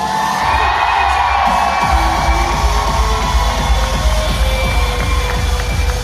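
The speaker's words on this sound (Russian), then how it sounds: "Аплодисменты команде Inside!" An event audience cheers and shouts for a competing team, a loud, dense crowd roar with whoops and high-pitched voices that carries on steadily throughout.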